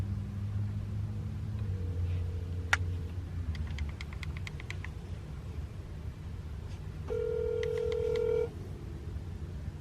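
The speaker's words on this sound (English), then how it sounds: "I'm just gonna go ahead and call him." Telephone keypad tones as a number is dialed on a cell phone: a quick series of short beeps, then a longer tone, close and clear over a low engine-like rumble, with no talking.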